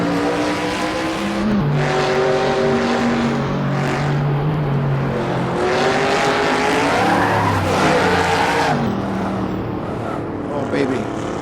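American muscle cars race in a video game, engines roaring and revving with shifting pitch, tires squealing at intervals, loud and continuous while someone talks over it.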